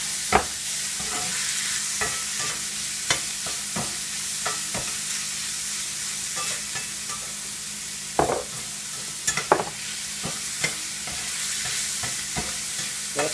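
Onions and chorizo sizzling in a pan, a steady close fry with repeated sharp scrapes and clinks of stirring throughout, no voices.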